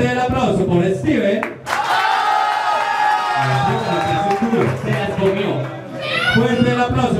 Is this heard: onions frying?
no